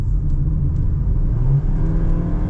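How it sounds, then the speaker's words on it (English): Heard from inside the cabin, a Suzuki Fronx engine revs under acceleration, a loud, steady low rumble with a slight rise in pitch and no talking. "to get the engine revving, and it's making a fair bit of noise"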